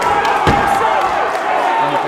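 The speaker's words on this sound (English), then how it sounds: "You can hear the crowd's response to this one already early in the opening round." A boxing crowd reacts to a punch early in the opening round of the Littlechild versus Coxhead bout, a loud, dense arena roar with a sharp thump near the start, under a commentator's voice.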